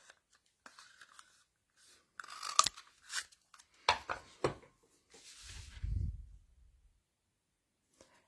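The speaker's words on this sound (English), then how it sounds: "And you're just going to cut those out." Scissors snip out a punched paper banner for a handmade winter card, giving close, irregular crisp cuts and crunches with short pauses and a soft rustle of paper near the end.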